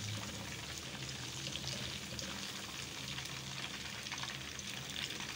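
Chicken fries in hot oil as a steady, faint crackle and hiss, a continuous soft sizzle with no talking.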